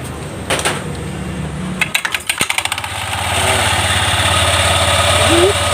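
A few clicks and rattling cranks lead into a Honda Click 125i scooter's motor catching, then the small engine settles into a steady, buzzing idle that runs to the end.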